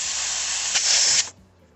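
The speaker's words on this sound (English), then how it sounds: "Immediately freon came out." R134a refrigerant hissing loudly from a car A/C hose, a steady close spray of gas lasting just over a second before it cuts off abruptly.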